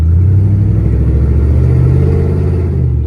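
An OBS crew cab truck with true dual exhaust revs loudly up close, a deep rumbling engine note that climbs and holds steady, with no voices.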